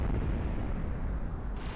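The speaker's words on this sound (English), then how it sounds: "all these giant thuddy explosions are covering" A deep, rumbling explosion in a PS1 video game roars as a thick, sustained low boom for under two seconds before cutting off abruptly.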